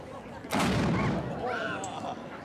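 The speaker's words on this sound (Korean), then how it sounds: "매일 12시와 4시 정각에 예포 발사식을 한다." A single loud salute cannon boom cracks out in Malta, followed by a long rolling echo that fades away; no other sound stands out.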